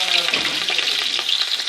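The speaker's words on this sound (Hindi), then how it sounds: "अब ऑयल हमारा गर्म हो गया, इसमें ऐड करेंगे प्याज।" Chopped onions hit hot cooking oil in a pot for chicken pulao, giving a steady bright sizzle and crackle with a few stirring scrapes, close and continuous.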